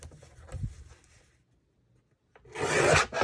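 Paper card trimmed to remove a small fold: a soft rubbing, rasping cut at first, a quiet pause, then a louder, brighter scraping slice near the end.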